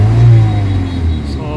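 A Kia Pride's engine runs steadily and loud with a low rough drone, its idle sounding uneven from a vibration fault with white smoke and low power, rising slightly as it revs.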